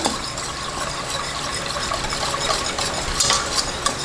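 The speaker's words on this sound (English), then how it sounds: "Dump it in and whisk it up." A tablespoon of yogurt being whisked into milk, a fast continuous scraping and sloshing with a few utensil taps against the container, close and unaccompanied.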